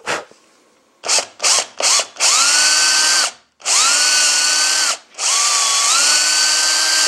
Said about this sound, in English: I raise the drill bit ever so slightly just to clear out the wood chips